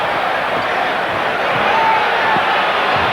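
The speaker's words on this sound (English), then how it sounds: "Crowd reacting to the steal by Pippen." A basketball arena crowd at the Chicago Stadium roars steadily after Pippen's steal in a Bulls versus Pistons game, a dense wash of cheering with no break.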